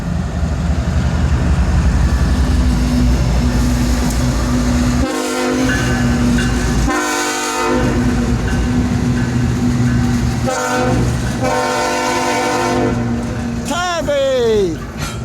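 A long freight train with coal cars rolls past in falling snow, its wheels rumbling and clacking nearby. Short horn blasts break through, a voice is heard briefly, and a brake squeal rises near the end.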